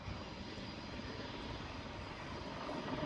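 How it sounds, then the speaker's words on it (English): AH-64 Apache attack helicopter in a flying display at Farnborough Airshow, a steady distant rotor and engine roar that stays even throughout, faint and alone with no talk. "Gunship have now ended the engagement using their whole array of weapons and are now accelerating to display the Apache's full range of manoeuvrability."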